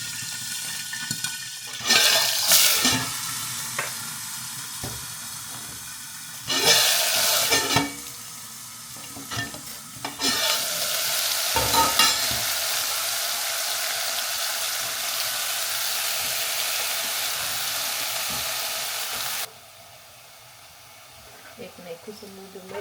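Eggplant (brinjal) frying in hot oil in a home kitchen, a steady sizzle with bursts of louder hissing and stirring scrapes. It stops near the end, and a voice talks over it.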